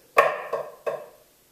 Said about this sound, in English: a left-handed flam accent sounds like this